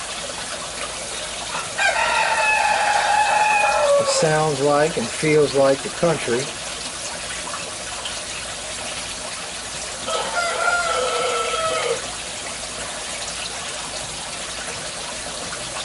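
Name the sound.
rooster crowing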